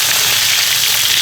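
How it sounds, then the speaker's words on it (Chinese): Ginger slices hit hot oil in a wok for a chili and scallion crab stir-fry, giving a loud, close, continuous hissing sizzle with no break and no talk. "下姜片儿，"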